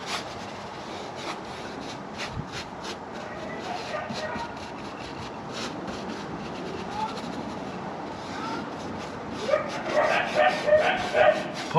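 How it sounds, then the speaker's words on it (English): Dogs bark repeatedly in the background of a car interior cleaning session, at first distant and faint, then louder and more insistent yaps near the end, with a voice speaking briefly. "Apologies about the dogs."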